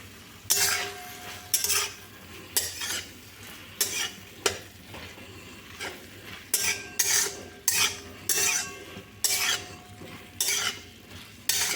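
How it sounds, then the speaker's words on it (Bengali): Tomato chutney stirred with a metal spatula in a pan, loud rhythmic scraping strokes repeating every second or so over a gentle sizzle, close up with no talking. "এবার খুন্তি দিয়ে আর একটু ভালো করে নেড়ে নিই"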